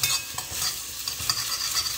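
Mutton brain fried with egg is stirred in a pan, with a soft steady sizzle under repeated scraping strokes of the spoon, close and fairly quiet.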